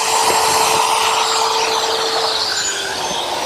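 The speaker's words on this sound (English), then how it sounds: "to drill the holes, I'm actually going to use a router" A steady, loud whirring of a router with a 1/4 inch straight bit cutting holes in wood, a continuous high-pitched machine whine with no pauses.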